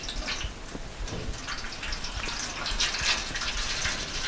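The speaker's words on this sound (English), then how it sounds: "I'm going to put a bit of water" Water from a tap pouring into a pan, a soft continuous splashing stream with small drips, fairly quiet and close.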